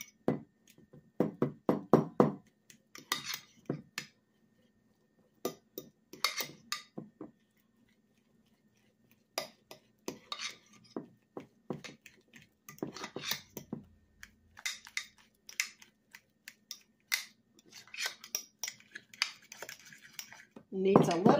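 Mayonnaise is worked into a crumbled mixture in a bowl with utensils, making intermittent clinks, taps and scrapes separated by quiet pauses.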